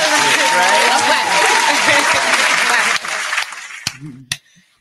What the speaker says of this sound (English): I'm going to clap for that.